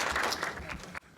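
An audience at an evening astronomy talk applauds warmly for about a second, a dense wash of clapping that cuts off abruptly.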